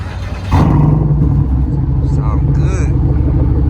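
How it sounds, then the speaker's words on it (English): A Chevrolet Impala SS with a newly installed aftermarket exhaust starts revving after a short pause. The deep, loud engine note holds steady close by, with a brief higher blip near the end. "He gonna give y'all a couple revs."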